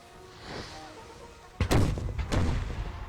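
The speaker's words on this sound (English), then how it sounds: "Let's see if they can hold out through this barrage." Heavy artillery booms in a Civil War battle game, two loud deep thuds about half a second apart, each followed by rumbling, with quieter battle noise before them.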